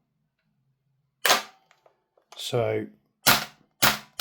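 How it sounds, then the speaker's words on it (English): A VFC/Umarex HK UMP .45 gas blowback airsoft rifle is dry-fired, giving four sharp, close mechanical clacks spaced a second or less apart, with a brief spoken word between the first and second. "Can we actually dry fire this?"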